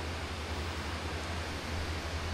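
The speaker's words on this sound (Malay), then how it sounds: "Bunyi ombak dah kuat." Broad, steady wash of ocean surf at a beach campsite at Tanjung Jaga, loud and continuous with a low rumble, no voices.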